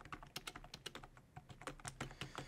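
Steady typing on a cheap RGB membrane keyboard, a quick, irregular run of soft, muffled key presses close up, with no talking.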